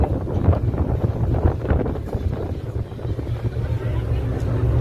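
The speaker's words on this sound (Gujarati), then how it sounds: "ઉડાડી દે એવી હવા છે હો ભાઈ" Strong wind on the deck of a Ro-Ro ferry from Ghogha to Hazira roars and buffets the microphone continuously, with a low rumble like the ferry's engine underneath.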